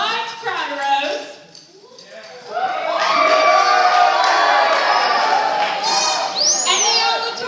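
A crowd of performers in a skit rises with loud, overlapping shouts and cheers that swell and stay strong. Excited voices rise and fall in pitch over the din.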